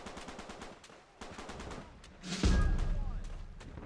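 Uncharted 3 gameplay gunfire, with sharp rapid shots followed by a loud, heavy burst of firing near the end over dense game noise.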